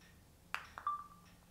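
Phone camera shutter clicks set off by a Bluetooth button on an Mpow PA194A selfie stick tripod, two sharp clicks followed by a short ringing tone, heard alone in a quiet room.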